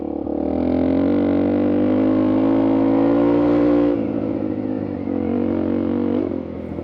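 A motorcycle on a dirt road near Moab, a loud, close engine drone that holds steady and rises slightly before dropping in pitch as it goes by, continuing more quietly afterward.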